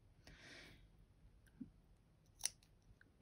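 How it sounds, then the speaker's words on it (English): Scissors trim quilt fabric with a few soft, separate snips spaced about a second apart, faint and close, in an otherwise quiet room. "I'm just going to trim this off"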